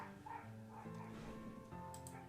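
A pet dog barks and yips indoors in a few quick, fairly close bursts, with some whimpering tones mixed in, at a low overall level.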